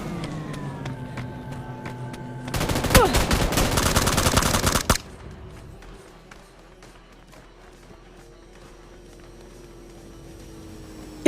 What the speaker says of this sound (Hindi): अब यहां पर मैं और मेरा टीममेट फायरिंग करते हैं, लेकिन बच जाता है वो।